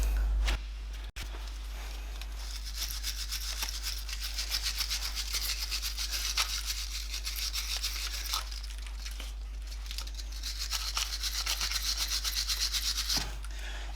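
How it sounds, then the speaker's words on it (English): A wire brush scrubs a Renault Clio Mk3 front brake caliper in a continuous scratchy rasp, close and steady, with rhythmic strokes running for several seconds and a short break near the start. "If you are wire brushing, just be careful you don't rip any of the caliper seal"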